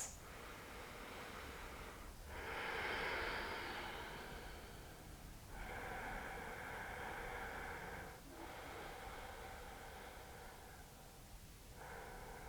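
Slow, steady breaths are drawn during a standing yoga pose such as triangle: long, soft airy inhales and exhales in about four even cycles, close and quiet with no talking.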